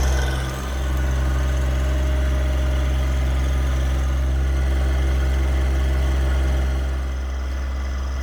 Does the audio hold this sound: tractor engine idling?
yes